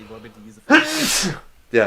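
A single loud, close sneeze bursts out between snippets of casual conversation, with people talking just before and after it.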